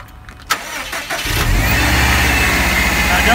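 A car engine cranks and catches after a jump start, then settles into a steady, loud idle that carries on to the end, with voices heard faintly near the start.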